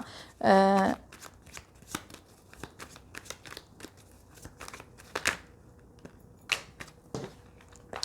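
Tarot cards being shuffled by hand in a series of crisp, separate riffling bursts and soft taps, one louder burst near the start and quieter flicks spaced through the rest, with no talking.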